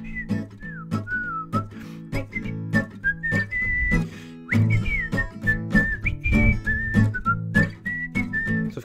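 Melodic whistling of a tune, a clear solo whistle carrying a bouncing line of rising and falling notes over a steady chordal accompaniment, loud and continuous, with no talk.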